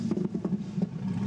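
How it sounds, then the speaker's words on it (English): A car engine with an open exhaust revs in a few quick, throaty blips over a rough idle, close and fairly loud, with no talking. "Oh, it sounds like a race car."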